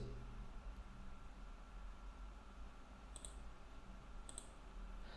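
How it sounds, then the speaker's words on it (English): Two soft, brief computer mouse clicks about a second apart, made while setting up a SQL Server database for an ASP.NET Web API app, sitting over a steady low hum and hiss. "So let's click on Yes."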